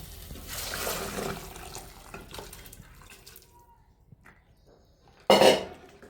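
Cooked mutton and its liquid are poured into masala with a wet, splashing rush, followed by a quieter stretch and then one sharp metallic clank of the pot.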